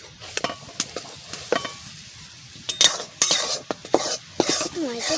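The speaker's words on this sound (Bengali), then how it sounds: "ময়দাটা আমি তেলে ভালো করে ভেজে নিচ্ছি" Flour frying in hot oil in a kadai while making sandesh, soft sizzle broken by sharp metal spoon scrapes and clinks against the pan, growing busier toward the end.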